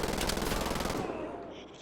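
MG42 machine gun fire in the video game Wolfenstein The Old Blood, a loud continuous rapid burst of shots that cuts off after about a second, leaving a fading echoing tail.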